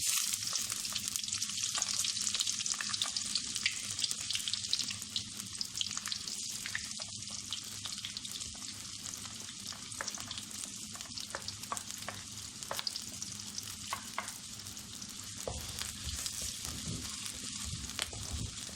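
Onions sizzle steadily in hot oil in a pan, a dense frying hiss with scattered pops and stirring scrapes, fairly quiet and continuous without talk.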